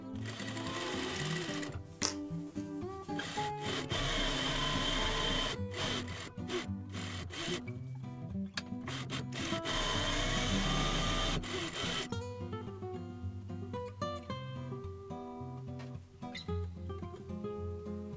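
A sewing machine runs steadily, stitching two parallel rows along the sewn edge of a milkmaid dress, with a fast whirring rattle that carries on loud and close for the whole stretch and shifts pitch partway through.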